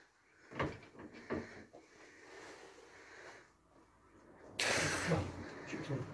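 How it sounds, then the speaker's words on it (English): A door is opened in an abandoned, reputedly haunted orphanage, giving several wooden knocks and creaks followed by a louder rush of handling noise near the mic, with no clear speech. "I dare you to open the door."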